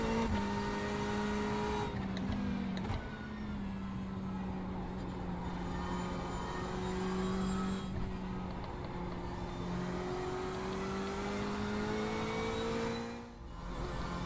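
Race car engine in the iRacing sim during an IMSA race at Spa, droning steadily at high revs with a rising pitch as a faster class car closes in, loud and continuous throughout.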